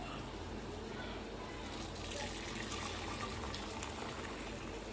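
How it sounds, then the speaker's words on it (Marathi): Boiling water drains from partly cooked rice into a metal strainer while veg biryani is being made, giving a steady, moderately loud gushing pour that continues for several seconds without a break. "त्याचं पूर्ण पाणी आपण जालीमध्ये काढून घेऊया."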